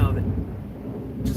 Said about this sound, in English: just to hear the rain come. But the thunder I could do without.